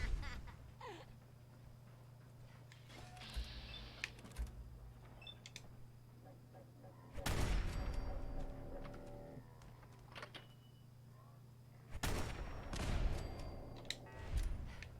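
Automated turret gunfire in the video game Fallout 4: two loud rapid bursts of rattling shots, the first around the middle and the second near the end, over a low steady background hum.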